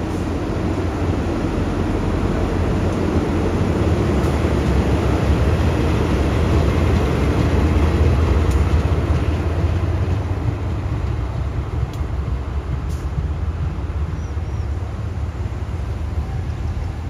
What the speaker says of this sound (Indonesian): Proses langsir lokomotif BB 3038409 Depo Padang yang melayani perjalanan kereta Lembah Anai